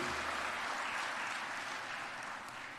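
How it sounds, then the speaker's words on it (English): A hall full of people applauds during a university inauguration and orientation for first-year undergraduate classes, a brief, even wash of many hands clapping, moderately quiet and slowly tapering off. "Please give him a big round of applause"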